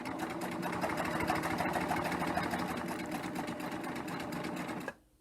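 A serger sewing machine stitches fabric in a steady, fast, close mechanical chatter, running evenly for about five seconds before it abruptly stops.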